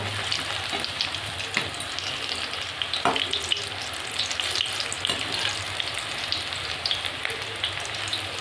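Banana and egg fritters fry in hot oil in a wok, giving a steady, close sizzle broken by occasional clinks and scrapes as they are turned, with no talking.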